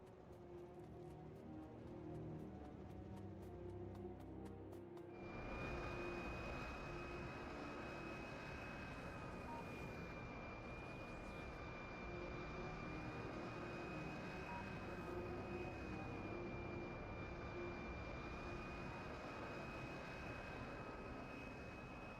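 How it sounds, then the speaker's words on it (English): A plane flying in the video game Factorio: a constant engine drone with a sustained high whine, steady and loud for about twenty seconds, following a brief softer rattling start, with no voices. "let's grab my plane and fly over there."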